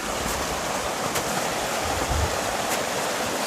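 Steady broadband rush of a river stream flowing in a foggy, wooded area, constant and fairly close with no voices.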